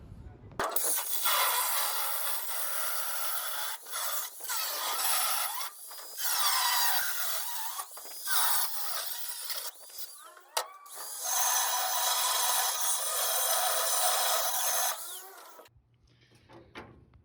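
A power tool saws through the sheet-metal bed and fenders of a C10 truck, a loud continuous grinding rasp running almost nonstop for about fifteen seconds with a few brief pauses, then cutting off into quiet.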